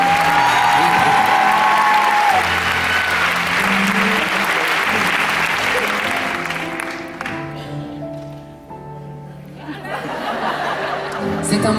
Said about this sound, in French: Applaudissez Bruno